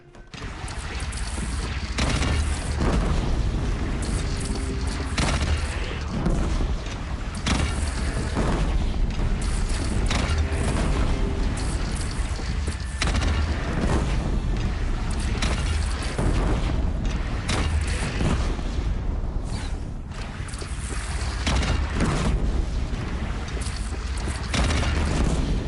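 Heavy cannon blasts and explosions in the Horizon video game during a bandit clan battle, loud booms and rumbling mechanisms repeating densely over the whole stretch with no pauses.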